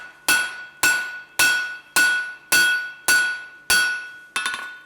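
A blacksmith's hammer strikes hot steel stock on an anvil, eight evenly spaced ringing blows about half a second apart, each with a bright metallic ring that decays quickly. The blows are loud and close, with no talk.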